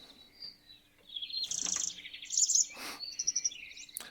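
Birds chirp and trill outdoors in short bursts, some near and bright, others softer behind them. A low steady hum sits under the calls.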